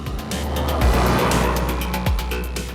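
A Maruti Vitara Brezza diesel car driven on the road, its engine revving and pulling hard, with two quick gear-change dips and steady road and wind noise, no talking.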